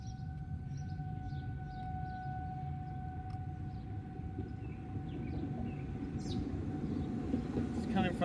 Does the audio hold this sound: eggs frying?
no